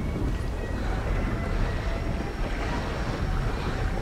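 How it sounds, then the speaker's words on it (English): Storm at sea: a steady roar of wind and crashing waves fills the scene, loud and unbroken throughout, with gusting buffeting and no voices. "And it's back in the weather again, back in a storm"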